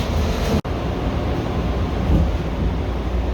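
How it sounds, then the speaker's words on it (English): A steady, loud rumbling roar of a Chicago elevated Orange Line train to Midway in motion, heard from on board, with one brief dropout early on. "This is an orange line train to Midway."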